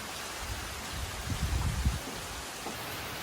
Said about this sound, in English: Look, it is raining.